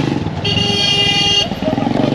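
Car horns honking in Egyptian street traffic, one loud sustained blast about a second long, close by, amid engine noise and a motorcycle.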